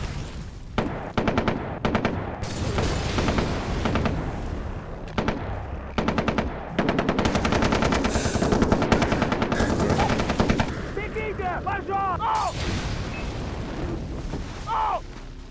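Rapid bursts of automatic gunfire in Far Cry 3, loud and dense with short pauses between volleys, plus explosions and scattered in-game effects throughout.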